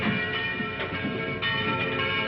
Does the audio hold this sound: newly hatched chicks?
no